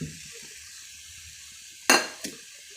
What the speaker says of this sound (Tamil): இப்போ நான் பொடியாக கட் பண்ணி வச்சுருக்க உருளைக்கிழங்கு சேர்த்துடுறேன்